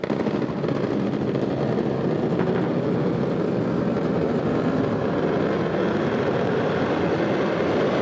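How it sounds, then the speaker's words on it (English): SpaceX Falcon 9 first stage firing its engine for the landing burn, heard as a continuous, dense roar that stays even and loud for the whole stretch, with no speech. "there is that call out for the landing burn startup on the Falcon 9 first stage"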